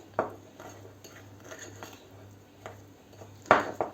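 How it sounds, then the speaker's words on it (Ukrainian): A spoon stirring a sugared mixture in a bowl, giving a few scattered clinks and scrapes against the side, the last one sharper and louder, over a low steady hum; no speech. "І це все розмішуємо гарно"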